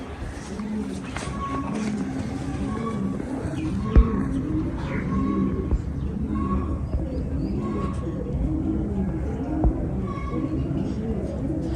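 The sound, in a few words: pigeon cooing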